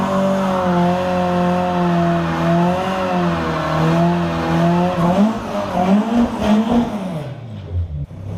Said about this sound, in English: I think it's only right that we burn some rubber to celebrate